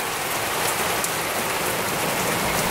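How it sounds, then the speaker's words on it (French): Heavy rain during a storm in the UK, a dense steady downpour hammering surfaces with constant loud hiss and no break, no voices present. "Là, c'est la tempête. Hein. C'est une pluie très très forte."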